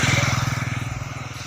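A motorcycle carries riders out with friends in the evening, its engine putting steadily and loudly close by with a fast even pulse.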